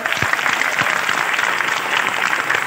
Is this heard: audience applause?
yes